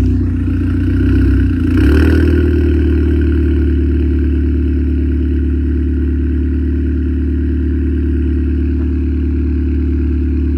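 A car engine with a decat exhaust starts up and settles into a steady, loud idle, the brief start-up surge giving way to a constant low drone that holds for the rest of the clip.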